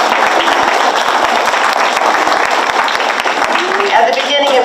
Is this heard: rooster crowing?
no